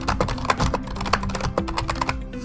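Rapid keystrokes clatter on a computer keyboard, a busy irregular run of close, crisp clicks with no talking.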